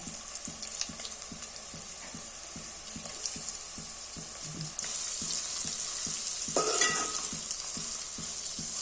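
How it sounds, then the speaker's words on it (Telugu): Soaked meal maker soya chunks fry in hot tempering in a pan, a steady sizzle with regular spoon taps and stirring scrapes, getting louder and hissier partway through. "వీటిని ఇప్పుడు తాలింపులో వేసుకుందాం."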